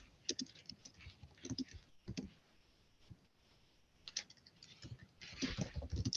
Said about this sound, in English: So I'm just going to type welcome.